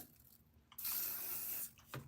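A single sustained spray hisses from an aerosol can for about a second, close by, with a short second puff right after; no talking.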